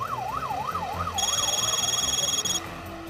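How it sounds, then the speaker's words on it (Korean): A fire engine siren wails up and down in quick cycles in an apartment complex, then shifts to a steadier, piercing tone, loud and close. "조용하던 아파트 단지에 갑자기 사이렌 소리가 울려 퍼집니다."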